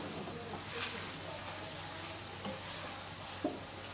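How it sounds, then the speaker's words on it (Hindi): Vegetables, potatoes and onions stir-fried in a pan for a fluffy vegetable omelette, a soft continuous sizzle with occasional utensil scrapes, faint and close, with someone speaking over it. "इन सब चीज़ों को मैं स्टेयर फ्राई करूँगी और अंडों में शामिल कर दूँगी"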